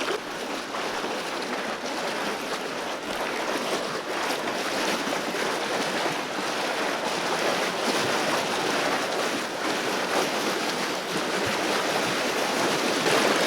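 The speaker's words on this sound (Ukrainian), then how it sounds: "Водичка шумить так класно." Dniester river water rushing over a shallow riffle at an evening fishing spot, a steady broadband rush of flowing water, close and constant throughout.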